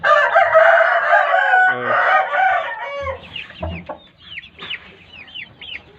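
Chickens and roosters in a coop, with a rooster crowing loudly up close at first, followed by clucking and high chick peeps.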